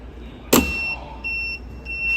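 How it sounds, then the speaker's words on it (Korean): A small open-loop strapping machine switches on with a sharp clunk, then a motor whirs as the strap feeds out, with steady tonal hums rising and stopping in several short runs. "전원을 켜면 안쪽에 있던 스트립이 풀려 나옵니다."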